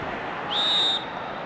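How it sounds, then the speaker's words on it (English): A referee's whistle at a 1975 West Ham v Fulham football match blows one sustained shrill blast of about half a second, standing out over steady crowd noise. "Whistle's gone."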